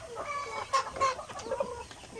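Rhode Island Red chickens cluck and chatter softly nearby in short, uneven bursts over a quiet background.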